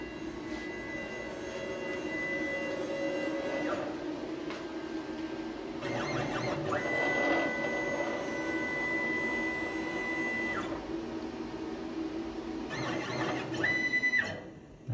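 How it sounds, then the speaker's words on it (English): A CNC machine on a dry run over sheet material: steady mechanical whirring and hum with rising and falling motor tones as the axes move, continuous and fairly close throughout, with no talk. "I've turned on the dry run feature so that we can hopefully just see what the CNC is gonna do before it actually attempts to cut"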